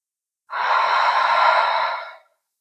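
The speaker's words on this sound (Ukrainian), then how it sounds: "Давайте вдихаємо носом, видихаємо, як завжди, через ха." One long, breathy open-mouthed 'ha' exhale during a chest-mobility fitness exercise, close and fairly loud, lasting under two seconds and standing alone.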